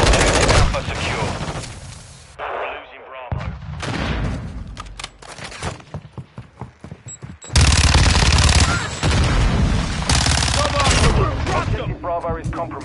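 Video game firefight with dense bursts of automatic gunfire and single shots, loud and close, pausing briefly before heavy sustained fire resumes while voices shout over the shooting.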